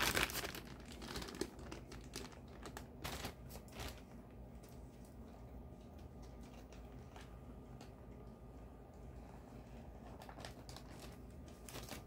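A sealed plastic lucky bag being torn open from the side, with faint close crinkling and crackling of plastic, louder at the start, then softer rustling.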